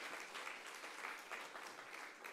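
A church congregation applauds at a Friday worship service, a steady, even patter of many hands clapping together, faint and slightly distant, with no voices over it.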